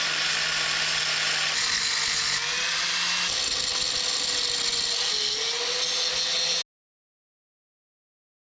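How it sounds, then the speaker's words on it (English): Power tool grinding three studs off a Mk1 Ford Fiesta gearbox, a steady, loud, close whine with shifting pitch running about six and a half seconds before cutting off abruptly to silence. "we're going to grind off these three studs that are coming out the gearbox"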